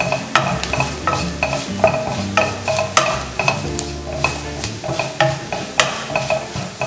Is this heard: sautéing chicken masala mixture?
yes